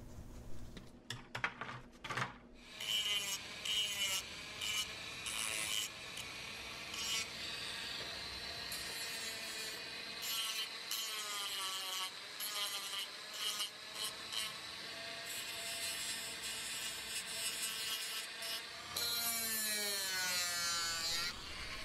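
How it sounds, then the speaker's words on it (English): A Dremel rotary tool grinds excess carbon fiber from the seams of a sword, a continuous high whine that rises and falls in pitch as the bit loads and frees, close and loud, with a few clicks at the start and no talk. "So I used the Dremel to remove all of that excess material and get those seams"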